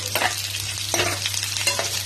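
Curry leaves, tempering seeds and bitter gourd fry in hot oil for a garlic-spiced bitter gourd dish, giving a close, steady sizzle broken by about four quick scraping stirs of a spoon in the pan.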